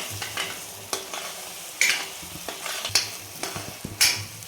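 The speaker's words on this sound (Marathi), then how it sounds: "तर छान आपल्याला तेलामध्ये परतून घ्यायचं आहे." A spatula scrapes and stirs masala sautéing in oil for Afghani egg curry, with a soft sizzle under repeated sharp pan scrapes at an uneven rhythm, close and fairly loud.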